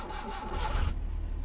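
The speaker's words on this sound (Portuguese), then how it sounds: "Vou ligar o carro." A car engine cranks and catches in My Summer Car, a brief close whirring start settling into a low rumbling idle.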